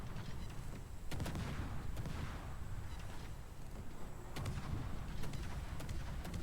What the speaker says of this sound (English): And you just have 3 Atlantas shooting at them